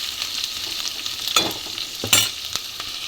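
Sliced onions sizzle in a pan for a hotel-style potato palya, a soft steady fry punctuated by a few sharp scraping stirs of a spatula, close by with no talking.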